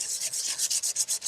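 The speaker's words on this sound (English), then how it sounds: "So now you can sand over this, and it'll make that fluted forest pattern show more" Sandpaper rubs back and forth over a fluted forest-patterned craft surface in quick, regular strokes, about ten scratchy passes in a steady rhythm, close and clear with no talking.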